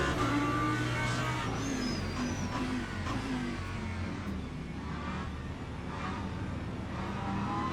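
GT3 race cars roar off the start at Spa in the Le Mans Ultimate racing game, a pack of engines revving and droning together in a thick, steady blare with gear-change swells.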